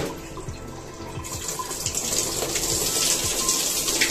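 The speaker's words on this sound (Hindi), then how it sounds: "अभी मैं यहाँ पे कपड़े धो रहा हूँ" Clothes are washed by hand under running water in a hostel, with a steady gushing tap flow and intermittent splashing and sloshing that grows louder over several seconds.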